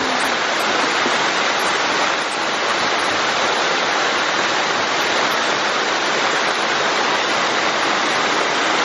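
A low head hydro turbine in the mountains spins as water rushes through it, a loud, steady broadband roar of flowing water that holds constant throughout with no talk.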